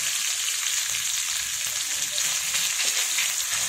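Chicken sizzles steadily in hot oil in a wok, a dense continuous frying hiss with faint stirring scrapes, close and fairly loud, with no voices.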